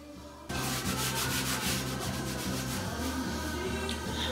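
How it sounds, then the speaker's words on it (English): A stove is scrubbed with quick, regular back-and-forth rubbing strokes, close and fairly loud, continuing steadily with no voices. "Are you scrubbing the stove listening to Mariah Carey?"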